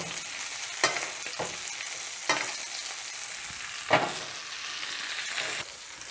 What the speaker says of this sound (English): I'm going to throw in some butter. And as that melts, What we're going to do is we're just going to spoon that over the steak